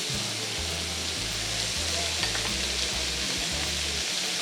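Pork and beef frying in oil in a pan give a steady close sizzle, with a low droning hum in the background throughout.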